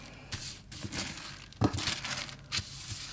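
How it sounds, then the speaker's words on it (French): Crinkly wrapping paper is pulled off a carefully wrapped package up close, producing bursts of crackling and rustling with short tearing and crumpling sounds in an irregular rhythm, no voices heard. "je vais enlever tout ça du papier."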